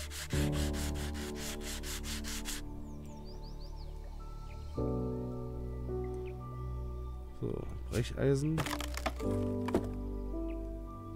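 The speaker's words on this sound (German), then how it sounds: "So, jetzt haben wir das Schleifpapier." Sandpaper rubs across a surface in the renovation game Train Station Renovation, a soft scraping texture under a steady game music bed, broken by a few brief louder knocks and scrapes partway through.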